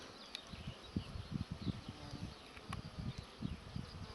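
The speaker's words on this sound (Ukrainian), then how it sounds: "Ось він, черговий рій" Bees swarming at a bait trap set in a lone pine among birch and aspen, a faint, fluttering buzz of insects close by in quiet open woodland.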